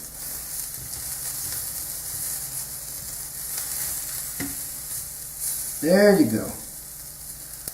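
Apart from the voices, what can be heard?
seafood sizzling in a pan after being flipped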